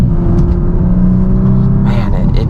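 Audi S4 engine hums loud and steady from inside the car through a corner, rising into a brief rev near the end.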